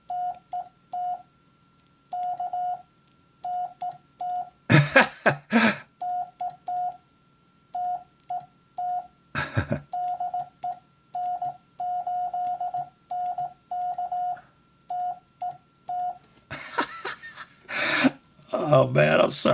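Steady CW Morse code tones beep in short and long keyed bursts from a radio, with a few loud bursts of static and rustling noise breaking in between the keyed sequences.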